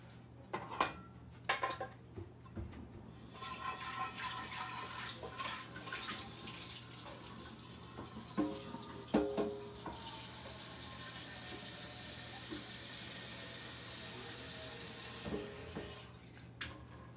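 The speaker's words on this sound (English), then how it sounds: "I'll go ahead and add some water in this pot." Tap water pours steadily into a cooking pot, a broad hissing rush that starts with a few clinks and thuds, then fills out and runs continuously to the end, fairly close with no talking.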